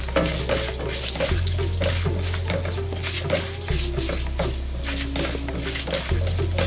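Curry leaves, urad dal and dried red chillies sizzling in hot oil in a pan: a steady, close frying crackle with small pops, with no talking.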